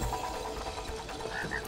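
A frog in the co-op game It Takes Two croaks amid a dense, busy game soundscape, its low calls repeating steadily beneath bright chiming effects.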